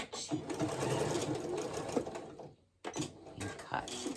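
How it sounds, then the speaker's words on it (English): A sewing machine stitches a seam on a pair of pants in a rapid mechanical whir that stops briefly, then restarts in short bursts, close by under occasional talk. "back stitch, sew all the way down"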